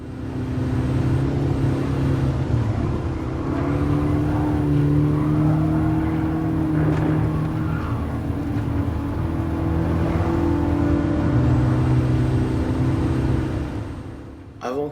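A small car in Gran Turismo Sport drives steadily, its engine a continuous loud hum with pitch shifting as it brakes and accelerates, running unbroken for the whole stretch.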